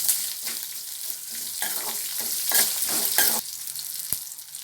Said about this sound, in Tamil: 4 பல் பூண்டையும் சேர்த்துட்டு அப்படியே எண்ணெயிலே வதக்கி எடுத்துக்கலாம்